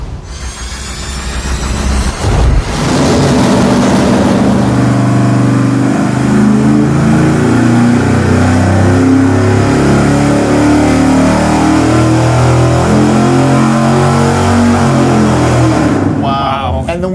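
A small block Chevy engine runs on a dyno fitted with an OE type cooling fan, revving up and then holding a loud, steady, droning roar at high load for most of the stretch before cutting off abruptly.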